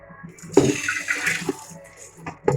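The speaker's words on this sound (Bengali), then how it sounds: "এটা আমরা ভালো করে ধুয়ে নেব।" Moong and masoor dal are rinsed in water by hand, with splashing and swishing in short bursts and a brief pause between, close by.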